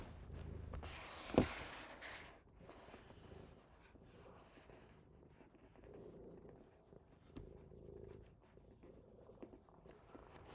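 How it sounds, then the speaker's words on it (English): A cat named Miles purrs softly close to the microphone, a faint, low rumbling that rises and falls in steady breaths, with a brief rustle and bump near the start. "you can probably hear Miles purring"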